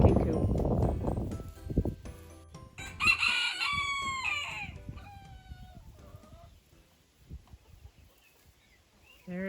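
Roosters crow and chickens cluck around a chicken coop under renovation, a loud crow standing out near the middle amid scattered clucks, with low rumbling handling noise early on and a final brief burst.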